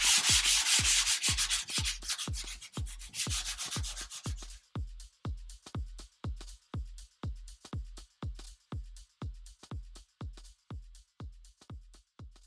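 Hand sanding a painted, thrifted wooden bookcase with 240 grit sandpaper, steady rhythmic back-and-forth rasping strokes, close and continuous, scratchier at first then softer.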